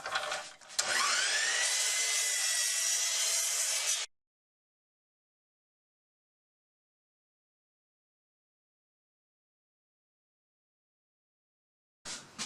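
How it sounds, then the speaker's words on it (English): A power saw cuts wood into blocks in a workshop, giving one loud, steady whining cut of about three seconds, followed by a long silence and a brief start of another cut at the end. "we'll trim the end first and then cut a bunch of blocks"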